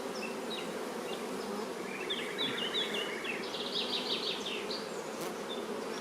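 Honeybees swarm over a hive frame during a colony inspection of a hive with a honey super, making a steady, dense, close buzzing hum that carries on throughout without speech.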